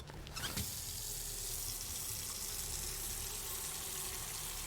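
In Autopsy Simulator, water runs steadily from a tap into a container, a constant hissing gush after a short clatter at the start, continuing alone without voices.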